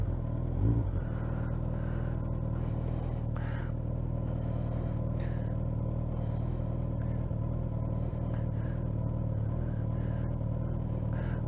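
Suzuki GSX 1300R Hayabusa motorcycle with a handlebar conversion on a test ride, its engine a steady, loud low rumble throughout with brief throttle blips and rising revs near the start, no talking.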